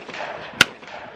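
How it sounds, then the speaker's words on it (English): A single sharp gunshot from a large-calibre gun fired at a country shooting range, heard at a distance as one brief crack over faint background noise. "them back there, they shoot something big, boy. They shooting something huge."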